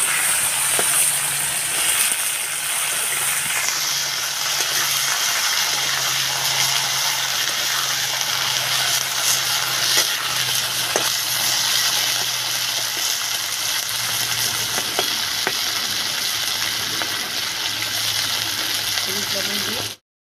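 Ash gourd stalks fry in hot oil after a five-spice tempering, a loud, close, continuous sizzle that holds steady throughout, with a low voice speaking under it.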